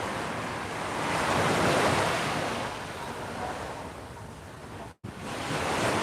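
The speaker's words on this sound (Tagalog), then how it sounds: "Lakas ng alon." Strong ocean waves break and wash in a broad, continuous roar, swelling then easing, with wind buffeting the microphone and a brief dropout near the end.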